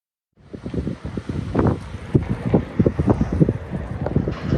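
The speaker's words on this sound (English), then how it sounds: "The wind was crazy." Strong sandstorm wind gusts buffet and rumble around a converted bus close to the microphone, with low thumping surges and a steady rushing hiss throughout.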